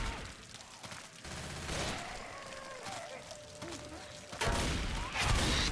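Gunfire in the Left 4 Dead video game, bursts of shots with crashes and impacts at moderate level, mixed with in-game sounds and player chatter.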